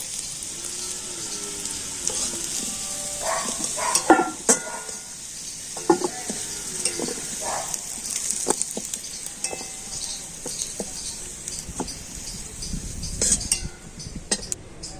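Potatoes frying in oil sizzle steadily beneath frequent clinks and scrapes of a spatula and utensils against the pan, close by with scattered metallic knocks.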